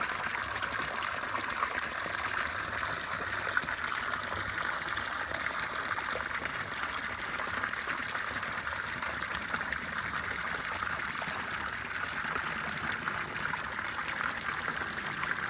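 Spring water flowing steadily in a village setting, a soft continuous trickling and gurgling stream heard at low level throughout, with no talk.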